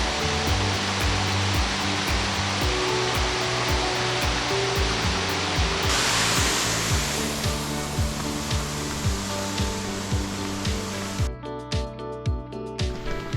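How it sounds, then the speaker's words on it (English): A small roadside waterfall near Hoonah, Alaska, rushes with a steady, dense wash of falling water, loud and close, alongside a rhythmic low thumping and a brief crackle near the end. "There's a cute little waterfall as you walk along the road towards the town."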